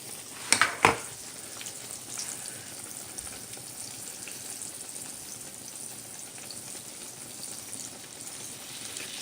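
Fry bread crackling and sizzling in hot oil, a steady close hiss with a couple of sharp clinks of a utensil at the start, no voices.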